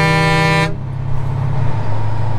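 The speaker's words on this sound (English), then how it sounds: "I forgot how awesome this horn sounds." A truck's air horn blasts loud and sustained on a farm road during soybean harvest, cutting off sharply after under a second, leaving a low rumbling engine and road noise underneath.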